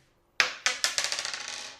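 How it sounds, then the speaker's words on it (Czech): A die is thrown onto a hard surface and clatters loudly, bouncing in a rapid series of sharp clicks that quicken and fade as it settles, with no voices. "teď budu házet touhle kostkou"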